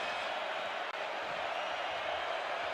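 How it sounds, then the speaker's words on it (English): A broad, steady roar of stadium crowd noise at a USC vs. Michigan State college football game, a continuous wash of distant voices with no distinct peaks, heard from a broadcast booth. "Crowd making a decent amount of noise for early stage of the game"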